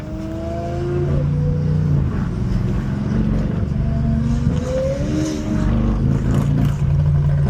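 A BMW M850i engine roars steadily on a back road drive, with rising and falling revs and gear changes, heard from inside the car, loud and continuous without talk.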